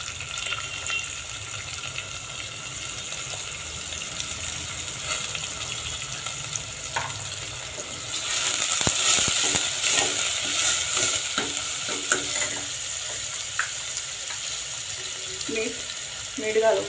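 Chopped onion fries in a pan with salt and turmeric, a steady sizzle under stirring that swells louder midway, with occasional scrapes and clinks.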